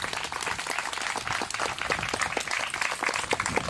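A rally crowd claps steadily in dense, continuous applause, moderately loud and with no speech over it.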